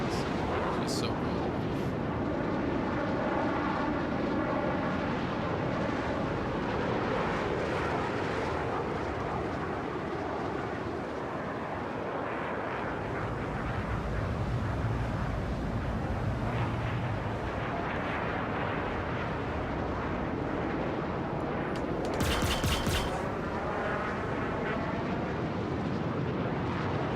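Roaring jet engine of an Aegis Gladius spaceship flying through canyons in Star Citizen, a loud, steady rumbling wash that holds throughout with a brief sharper burst near the end.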